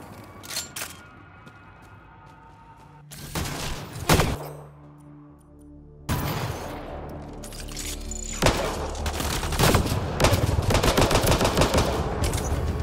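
Rapid pistol gunfire from the video game Mass Effect Andromeda, a dense run of sharp shots and bursts with booming impacts, loud and continuous through most of the stretch.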